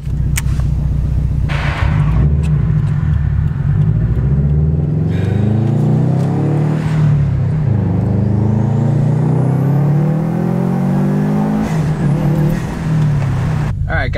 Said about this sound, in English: go for a little test pull right now